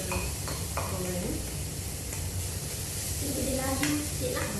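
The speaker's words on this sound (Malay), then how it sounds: "Lepas tu kita masukkan lobak merah. Kita goreng." Carrots frying in a pan, a steady close sizzle with occasional scraping stirs, while a voice talks intermittently over it.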